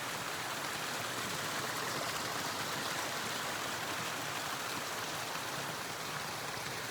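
A small stream running beside the Appalachian Trail: a steady, close wash of babbling water, even and unbroken throughout, with no voices.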